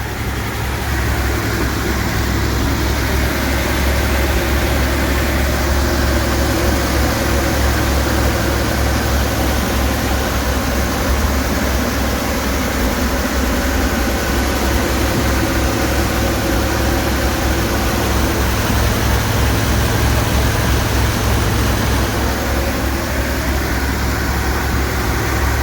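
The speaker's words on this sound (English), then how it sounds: "Okay, so we got the engine running." A 1967 Chevy G10 van engine idles steadily after starting, a low, continuous rumble and rattle, unchanging throughout and heard up close without voices.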